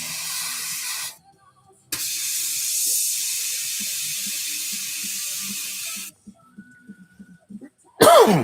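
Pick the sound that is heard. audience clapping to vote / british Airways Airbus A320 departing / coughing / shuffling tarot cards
coughing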